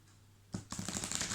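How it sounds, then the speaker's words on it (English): Tarot cards are shuffled by hand in a quick burst of soft, papery riffling and slapping, close and fairly quiet after a moment of near silence. "So just bear with me while I'm shuffling."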